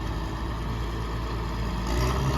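Cat D6N bulldozer with full cab and rear winch running at a steady idle, a low continuous diesel rumble heard close without talk.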